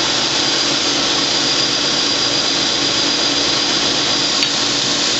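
Abrasive grit grinding steel while a kukri blade is shaped, a loud, steady, unbroken high-pitched grind at close range that runs without pause, with one small scrape near the end.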